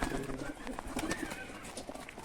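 Teddy breed pigeons coo softly in a loft, a steady murmur of repeated low calls with close rustling and faint background noise throughout.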